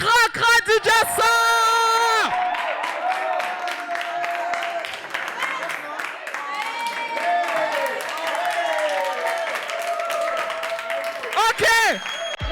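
Audience applause at a French-language teen talent show, a sustained broadband wash of clapping that holds steady for about ten seconds beneath strong sung or spoken tones, with loud musical bursts at the start and end.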